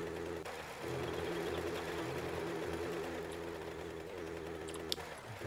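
A vehicle engine in the zombie survival game 7 Days to Die runs in a steady, buzzing drone that continues throughout with little change in pitch.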